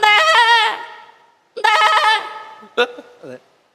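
A voice mimics a goat, two wavering bleats followed by a couple of short quivering cries, loud and close.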